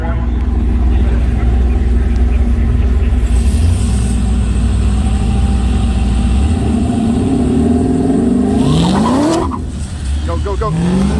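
Drag race car at Rocky Mountain Race Week in Kearney, Nebraska, engine roaring loud and close as it launches and accelerates down the strip, pitch climbing steadily through the gears with a brief tire squeal.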